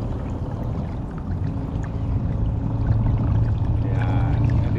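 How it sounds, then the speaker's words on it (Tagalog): Strong water current rushing around a fishing boat, a steady loud wash and churn that holds constant throughout with no talk. "Lakas ng agos."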